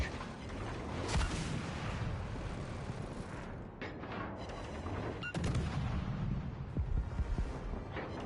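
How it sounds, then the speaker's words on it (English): Side-mounted weapons on a warship in World of Warships Legends fire in a dense, rumbling barrage of booms and blasts, with a sharp crack partway through and heavy low-end gunfire continuing throughout. "the missiles on this, on the sides still shoot"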